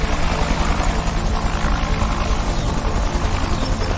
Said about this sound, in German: Dafür haben sie einen Helikopter uns dahingestellt.